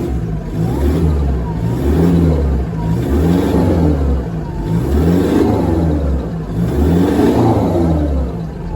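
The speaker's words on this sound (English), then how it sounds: "It sounds like a lot of turbo noise to me." Car engine revving hard with an aftermarket large exhaust, a whirring turbo-like whoosh riding over repeated loud swells of throttle, close and continuous without talk.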